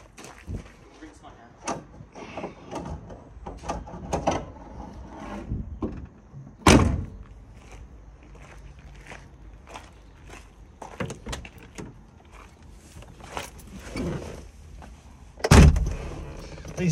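Doors and handles of a Citroen Ami 8 being worked, with a couple of sharp door thumps and clicks standing out among quieter rustles and handling noises, close by, with some talk around them.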